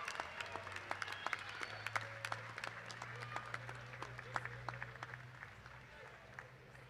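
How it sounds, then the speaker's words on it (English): Graduates at the 2017 Rowan School of Health Professions ceremony applaud their families, producing sparse, scattered claps that sound faint and distant over a steady low hum. "Applaud them as you're ready to graduate"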